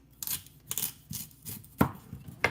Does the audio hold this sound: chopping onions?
yes